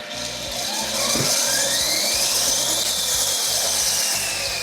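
A portable bench grinder, mounted on a trailer-hitch platform at a workbench, grinds metal with a continuous loud, harsh rasping whine that rises and falls slightly in pitch, close up and alone.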